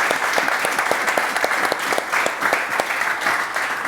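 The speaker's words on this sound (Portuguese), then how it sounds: "Um forte aplauso" Loud sustained applause from an audience at a talk on combating corruption and money laundering, dense clapping filling the room continuously.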